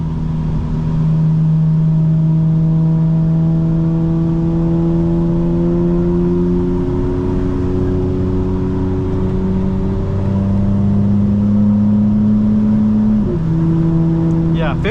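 A 2025 BMW M4 Competition xDrive engine drones loudly and steadily climbs in pitch, then drops sharply with a quick fifth-to-sixth gear shift and keeps pulling in light rain, under faint talk.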